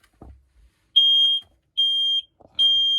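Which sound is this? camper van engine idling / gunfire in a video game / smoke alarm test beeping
smoke alarm test beeping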